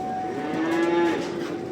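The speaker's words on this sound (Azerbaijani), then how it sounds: "Qardaşı bax belə bordağa gedən danaları var" Fattening calves at a livestock market lowing once, a single drawn-out moo that is close and clear against faint background noise.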